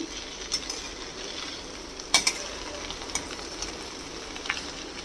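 Jute leaves being mixed and stir-fried in a pan for a jute-leaf curry, giving a steady soft sizzle with a few sharp clicks of a spatula against the pan, close and moderately loud, without talk.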